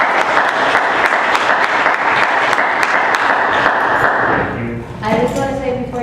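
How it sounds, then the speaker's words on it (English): A seminar audience gives a sustained round of applause at the close of a program talk, dense steady clapping filling the room for several seconds before fading, with a voice starting to speak as it dies down. "Let's give him a round of applause."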